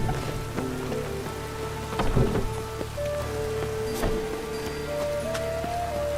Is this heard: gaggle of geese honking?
no